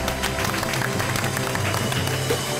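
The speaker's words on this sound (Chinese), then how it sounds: "现在以热烈掌声来欢迎安倍晋三先生" Applause greeting Shinzo Abe at a Taiwan press-conference event, a dense, steady wash of many hands clapping with crowd noise underneath, loud and continuous.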